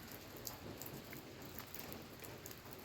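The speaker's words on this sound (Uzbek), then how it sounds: "Uzoq kutilgan yomg'ir keldi mana." Rain keeps falling in Gurlan, a quiet, even patter of drops on surfaces that stays soft and continuous throughout, with no voices.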